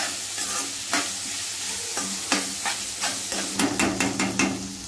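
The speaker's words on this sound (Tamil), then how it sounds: "இப்போ இந்த வெங்காயம் நல்லா வதங்கட்டும்." Onions sautéing with a little salt in a pan, a steady close sizzle broken by repeated scraping stirs and light taps of a spoon, which grow quicker toward the end, with no talk.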